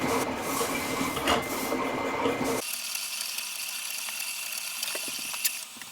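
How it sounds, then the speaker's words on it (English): Siser cutter machine cutting a cardstock cake topper, giving a close mechanical whir and clatter that changes pitch partway through, with small clicks and ticks under it and no talk. "Now my cutter is going to be cutting out the black portion of this."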